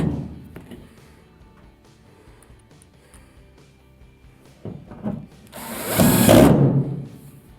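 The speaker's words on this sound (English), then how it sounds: "Get one started and then finish it off with your driver" A power driver whirs briefly near the end as a screw is driven into the back panel of an Amana dryer during a drive motor repair, preceded by quiet handling clicks and scrapes up close.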